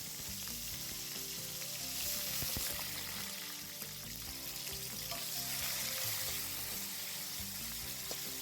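Chopped onion with whole spices, bay leaf, cardamom, cloves, cinnamon, cumin and peppercorns, sizzles steadily in oil for a vegetable pulao, a dense, fairly quiet crackle with occasional stirring and no speech.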